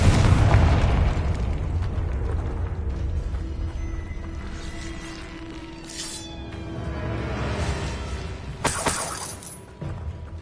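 A Confringo spell blast in the Hogwarts Legacy video game: a loud, booming explosion with crackling debris that rumbles on, followed by a bright shattering burst near the end.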